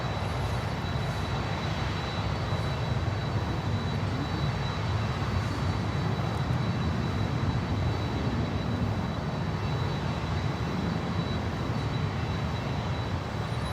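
A steady, broad roar from an aircraft in Captain the Puffin livery at Miami airport, holding a constant, unbroken level with a faint high whine running through it.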